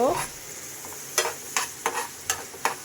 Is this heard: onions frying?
yes